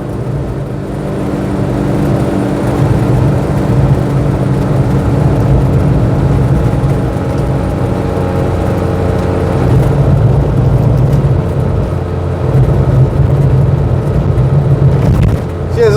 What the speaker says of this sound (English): That extra subframe means this little engine's having to work quite hard.